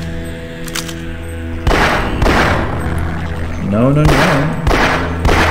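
Gunfire in Half-Life: Source, several sharp loud shots and booming blasts in quick succession while a voice speaks briefly over them.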